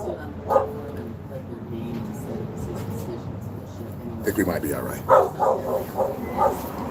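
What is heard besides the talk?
dog barking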